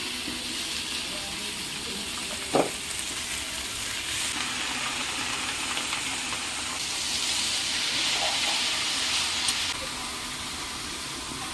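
Chopped red amaranth greens fry in a hot pan while salt and turmeric are added, giving a steady, close, hissing sizzle for the whole stretch, with one sharp clatter early on.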